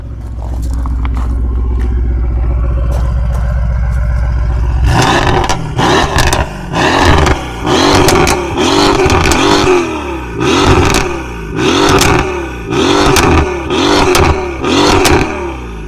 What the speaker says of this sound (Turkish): Duyduğun gibi egzoz sesi direkt değişiyor.